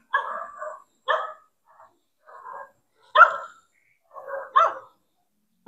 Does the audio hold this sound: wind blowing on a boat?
no